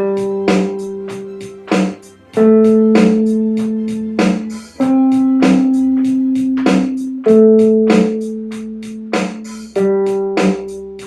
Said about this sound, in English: if you play whole note durations with individual pitches on the guitar with that track, it's going to sound like this